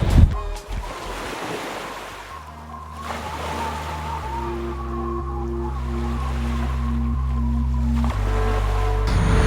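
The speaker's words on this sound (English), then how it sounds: "it's super windy today" Strong wind roars across an open microphone beside a lake, with a steady rushing of water and waves beneath it, loud and continuous throughout.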